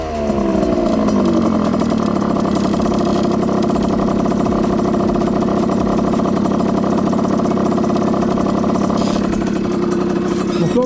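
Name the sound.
Beta 50 moped engine running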